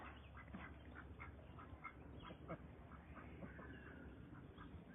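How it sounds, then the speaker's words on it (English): Ducks on a farm quack faintly at a distance, in scattered short calls over a low, steady outdoor background with no talk. "here's the ducks"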